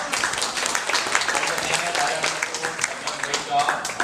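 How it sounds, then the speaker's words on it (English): Audience applause at a Korean chamber of commerce financial seminar in Hawaii, a steady wash of clapping from a seated crowd that holds evenly for about four seconds. "Let's give Hannah Mounson a round of applause."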